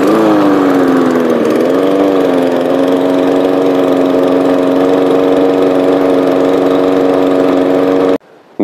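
A Huter GLM-420LT petrol lawn mower engine starts and drones close by, its pitch wobbling briefly before settling into a steady buzzing hum, then cutting off abruptly.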